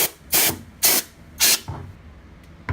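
Three sharp, loud hissing bursts of spray blast dust from the feeder plate area of a Cummins Allison Jetscan 4062 currency counter, evenly spaced, with short quiet gaps and a faint tap at the end.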